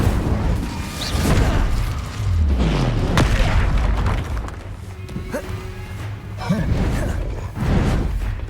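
Incendio fire spell blasts in the Hogwarts Legacy game, deep booming bursts and crashing thuds in close succession, loud and dense, with some combat noise mixed in.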